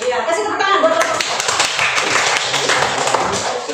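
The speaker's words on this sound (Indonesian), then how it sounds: "Ya, kasih tepuk tangan buat kelompok." Students in a classroom applaud a presenting group, a dense burst of close, busy clapping that carries on steadily with voices mixed in.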